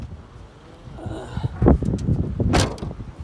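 A 2017 Toyota Sienna minivan door is opened up close, with a latch clunk followed by a sharper thud and rattle, set against faint outdoor wind.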